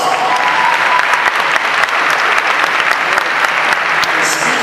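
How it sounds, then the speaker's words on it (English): Loud, sustained applause from a banquet crowd at a Class of 2021 graduation and awards event for the yearbook staff, many hands clapping densely and evenly, with scattered sharper claps standing out close by. "Please give them a round of applause."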